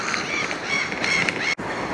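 Gulls calling by a lake, a few nasal honking cries over steady outdoor background noise, cut by a brief dropout near the end.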